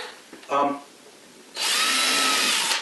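A power drill drives extra screws into wooden furniture, first with a short whirring burst and then a longer steady whine, close and loud.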